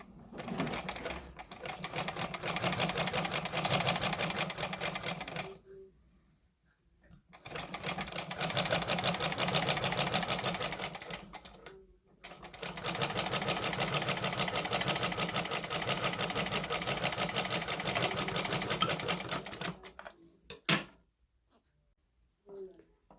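A sewing machine stitching thread runs in three long steady bursts of rapid mechanical chatter, stopping briefly between runs, close and clear.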